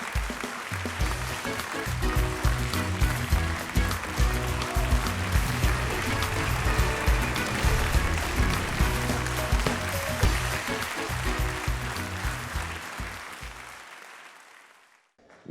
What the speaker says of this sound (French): Merci de l'applaudir très très fort, mesdames et messieurs.